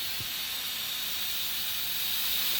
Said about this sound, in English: we have our meats that'll be going in there. Currently steaming, creating a nice broth